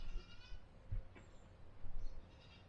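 Goats bleat a few times at a moderate distance, with short wavering calls separated by quiet gaps, against a low background rumble.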